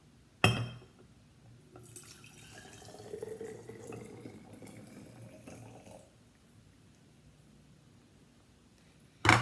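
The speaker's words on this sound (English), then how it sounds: "the first step is to pour this water into this jar" Water is poured into a jar, a soft gurgling trickle running for a few seconds between two sharp knocks of the glass being handled, quiet and close with no speech.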